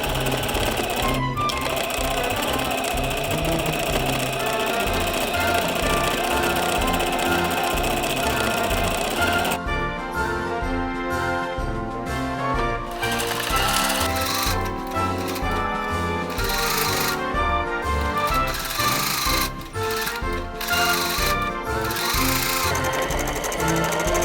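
A sewing machine runs steadily, stitching the folded edges of fabric scraps around a clipped curve on a small garment, its rapid mechanical chatter continuous and close, with a sharper, choppier stretch of stitching in the second half.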